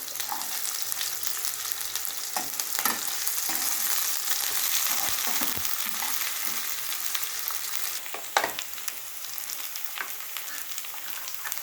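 Garlic sizzles and crackles steadily in hot oil in a pan, with a few sharp pops and stirring clatters along the way.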